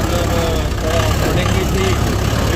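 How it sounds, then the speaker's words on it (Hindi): A tractor engine runs steadily in a farm setting during a paddy harvest, hauling a winnowing fan. It makes a continuous, loud, close chugging rumble with voices talking over it. "भाई हम ट्रैक्टर लेके जा रहे हैं"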